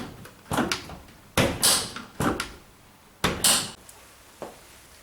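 A Beko washing machine door is opened and shut several times, each movement ending in a firm thud or click, close by with short pauses between.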